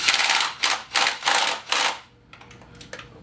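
A torque wrench tightening a bolt on a VW MK5 FSI intake manifold during reinstallation, giving five loud, close ratcheting bursts in steady rhythm, then quieter faint clicks.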